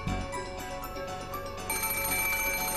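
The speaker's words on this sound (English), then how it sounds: "the ring of the phone, which had once sounded like a scream for help, now started to sound like a ghastly lure" Telephone ringing in the video game Umineko When They Cry, a continuous electronic ring with a steady tonal buzz that brightens partway through, loud with no speech.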